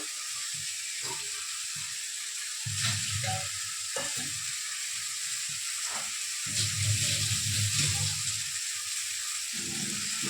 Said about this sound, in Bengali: এখানে দেখো আমার কিন্তু মশলাটা ভালো করে কষিয়ে নেব আমি